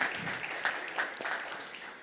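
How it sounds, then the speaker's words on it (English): Applause from an audience, a soft, scattered patter of clapping that fades slightly toward the end. "May I have a round of applause for Sidharth, please?"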